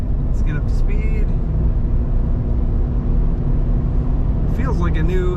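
A 1996 Chevrolet Tahoe K1500 LT on oversized tires gets up to speed on the road, heard as a steady low cabin rumble of engine and road noise, with brief bursts of a voice at the start and end.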